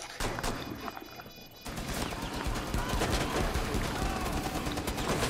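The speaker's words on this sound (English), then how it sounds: "They're shooting through the wall!" Gunfire in the video game Rainbow Six Siege, a rapid crackling burst of automatic shots building into sustained fire after a brief quieter moment, with voices talking over it.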